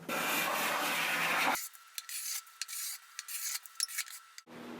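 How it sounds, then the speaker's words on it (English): A hand tool shaves very thin layers off the edges of a classic Eames rope-tension snare drum shell, a close raspy scraping that breaks into short, irregular strokes. "just trying to just take off very, very thin little shavings"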